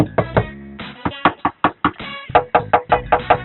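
Knuckles rap on a metal body panel of a Toyota Matrix car lined with factory vibration-proof insulation, about a dozen loud, close, hollow knocks in quick, uneven rhythm with no talk.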